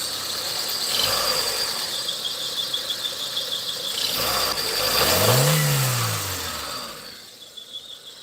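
A running car engine carries a high, thin, mouse-like squeal throughout, then a revving swell rises and falls before it quiets down.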